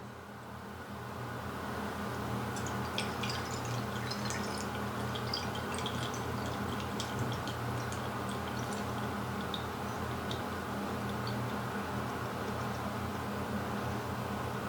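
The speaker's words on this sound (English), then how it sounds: "all we do at this point is take a funnel and pour our vodka in" Vodka is poured through a funnel into a bottle to make vanilla extract. A steady, close liquid pour with a fine dripping texture continues evenly for the whole stretch, with no voices.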